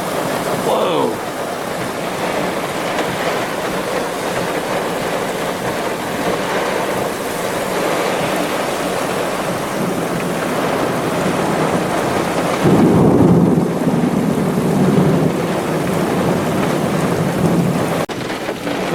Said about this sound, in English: We got waves of rain going by now.